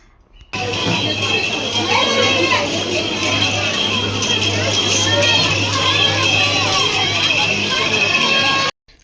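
A large, dense Sunday crowd at the Ekvira Devi temple, with steady hubbub of many voices, children's chatter and footsteps, loud and continuous, with someone talking close over it.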